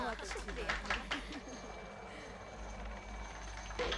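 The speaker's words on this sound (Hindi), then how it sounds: "रिहायशी इलाकों के ऊपर हेलीकॉप्टर उड़ाना बैन कर देना चाहिए।" A helicopter flies over a residential area in Miami, its rotor drone rumbling steadily in the background while people talk over it in the foreground.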